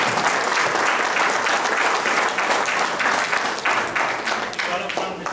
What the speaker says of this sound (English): Stop clapping, right?